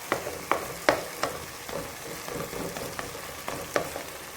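Brain masala being mashed and fried over high heat in a pan, with repeated sharp scraping and mashing strikes over a steady sizzle, close and moderately loud.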